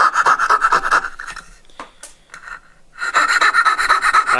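Scroll saw with a 12.5 TPI skip-tooth, 5-inch blade cutting out the waste between dovetail tails in a wooden tailboard, a steady buzzing rasp that pauses for about a second and a half midway, then resumes loudly.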